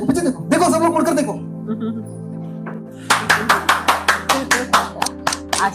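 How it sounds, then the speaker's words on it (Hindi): A congregation claps in a steady rhythm of about a dozen sharp, even claps, following a stretch of singing or talk over a sustained keyboard-like tone. "ताली बजाओ।"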